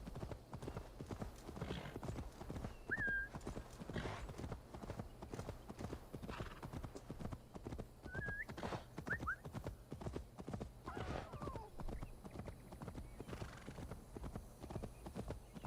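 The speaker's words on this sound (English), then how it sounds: "I don't know where this horse is going." Steady rhythmic horse hoofbeats clip-clop continuously at a moderate pace in a video game, with a few brief whinny-like squeals over a dense, busy game soundscape.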